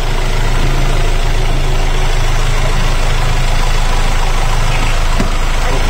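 A sailboat's inboard engine idling steadily inside its cramped engine compartment, loud and close with a constant low rumbling drone and mechanical whir, unbroken and with no one talking.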